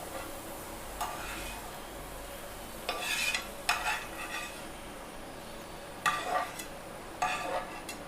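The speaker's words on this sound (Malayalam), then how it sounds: "നമുക്ക് എണ്ണ ചൂടായി വന്നു. കുറച്ച് മുന്തിരി ഇട്ട് കൊടുക്കാം. ഇങ്ങനെ നമ്മൾ മുന്തിരി വറുത്ത്" Raisins frying in hot oil in a pan for a banana dish, a soft steady sizzle with a few louder bursts of crackling and stirring scrapes spaced through the stretch.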